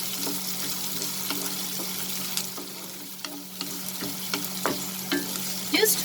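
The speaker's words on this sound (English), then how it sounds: "The dried red chilies, I'll break them into half. Now I will saute this." Broken dried red chilies sautéing in hot oil for a potato and long bean curry, giving a steady close sizzle with scattered scraping stir strokes and small crackles, no talk.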